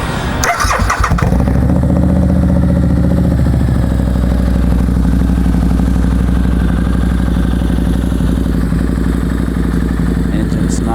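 Harley-Davidson V-Rod Muscle motorcycle with about 11,000 miles on it, fired up through its header: a brief starter clatter, then the engine catches and settles into a steady, deep, close-up idle for the rest of the clip.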